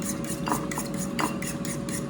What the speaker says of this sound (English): and whisk it